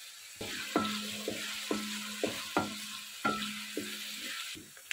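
Sliced onions sizzle in hot oil with cumin seeds in a pan, a steady quiet fry broken by repeated scraping stirs of a spoon, heard close with no talking.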